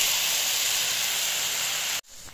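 Sauce mixture hits a hot pan of frying ginger, garlic and chilli with a loud, steady, close steam hiss that holds for about two seconds and then cuts off sharply, leaving a quieter low sizzle, with no talking.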